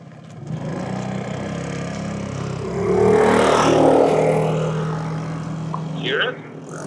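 A scooter engine runs on the road with a steady rattly drone that swells louder midway, and people talk over it.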